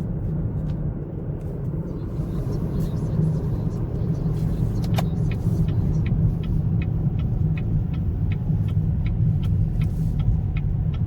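Heavy road traffic on the road toward Jahra, a continuous low rumble of many passing cars with a steady, unbroken roar and faint intermittent ticking above it, no voices.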